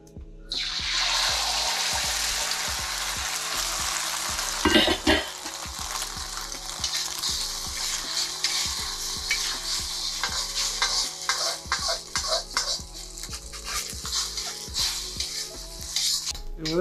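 Eggs frying in oil in a wok for breakfast fried rice: a steady loud sizzle with rhythmic scraping and stirring, metal utensil knocks and clinks, and no voices.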